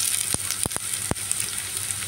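Mixed vegetables for a vegetarian five-vegetable dish frying in a pan, a steady, loud hiss of sizzling oil with a few sharp clicks from a utensil striking the pan.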